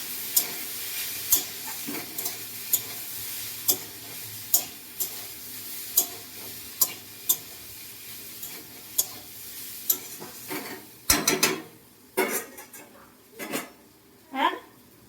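Potatoes tumble into a hot pan and fry, with a soft sizzle under repeated sharp clinks and scrapes of a spatula stirring against metal, growing louder and busier toward the end, in a home kitchen during festival cooking.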